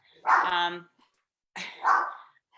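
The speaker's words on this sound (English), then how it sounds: "the dog is in the background being annoying" A dog gives two short barks in the background, each a loud, close burst with a pause between them, somewhere at home during a remote meeting.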